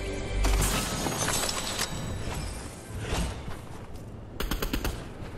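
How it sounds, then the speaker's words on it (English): Gunfire in Fortnite, a burst of rapid shots at the start and another sharp rattling volley near the end over a busy game soundscape, moderately loud. "Oh, you're shooting at me."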